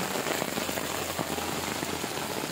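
Heavy rain pours at a market, a dense, steady hiss of drops hitting surfaces close by, continuous throughout with no talking.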